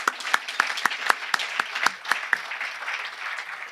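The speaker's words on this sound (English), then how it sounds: "please join me in a round of applause for our corporate partners" A conference audience at an economic forum gives a short round of applause for corporate partners, with distinct individual claps standing out sharply at first, then thinning into softer, scattered clapping.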